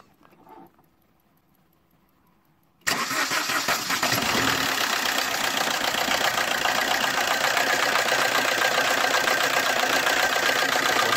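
2009 Opel Agila DTI diesel engine cranking and firing abruptly after a quiet start, then settling into a loud, steady, close idle clatter that holds to the end.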